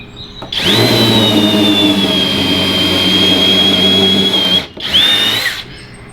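A power drill drilling wood whines loudly and steadily for about four seconds, stops briefly, then spins up again in a shorter burst.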